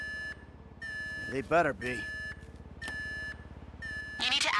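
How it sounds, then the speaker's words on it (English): An alarm in the video game GTA V beeps in a steady, repeating series of sharp electronic tones, looping clearly under short bursts of a man's speech. "The alarm's been tripped."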